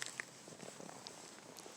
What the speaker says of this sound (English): Go ahead and purr.